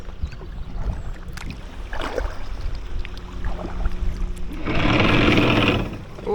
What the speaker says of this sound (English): there's some boats coming to actually use it